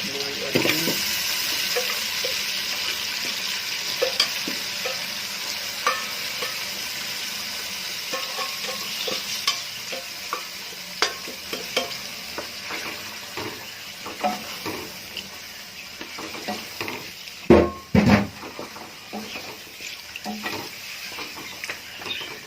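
Boiled beef is tipped into a pan of fried chilies for beef korma and stirred, sizzling steadily up close, with scraping and a couple of sharp pot clanks near the end.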